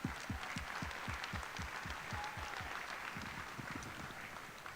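Applause for the sound engineer at a high school pops concert evening, a steady wash of many hands clapping at moderate distance with a few sharper individual claps near the front, continuous without speech.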